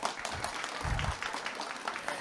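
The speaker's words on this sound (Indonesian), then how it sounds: "Tepuk tangannya mana?" Audience applause at a morning youth event, a moderate, steady spread of clapping heard at some distance, fairly soft and even, with a low murmur of voices beneath it.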